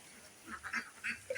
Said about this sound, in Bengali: তো এই হলো হাঁসের অবস্থা। ওরা অলরেডি এক বল খাবার শেষ করে ফেলছে